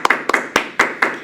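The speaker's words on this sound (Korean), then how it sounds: "멋진 강의 해주신 우리 강사님께 다시 한번 뜨거운 박수 부탁드립니다" A small audience claps for a lecturer at the end of a talk, with about six separated hand claps in an uneven rhythm, close and fairly loud, with no voices.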